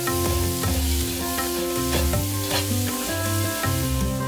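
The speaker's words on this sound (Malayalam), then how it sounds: "ഇതിലേക്ക് ഒരു മീഡിയം സൈസിലുള്ള സവോള അരിഞ്ഞതും, 1/2 ടീസ്പൂൺ ഉപ്പും ചേർത്ത് നന്നായിട്ട് ഇളക്കി യോജിപ്പിക്കണം." A spoon stirs sliced okra with chopped onion and salt in a pan for a Kerala-style vendakka dish, making repeated close scraping and shuffling strokes with a light sizzle. Steady tones sit underneath throughout.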